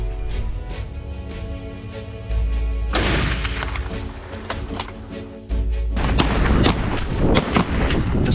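Gunfire from a wild boar hunt, heavy booming shots that ring out loud and close, with rumbling echoes and a dense, noisy outdoor background.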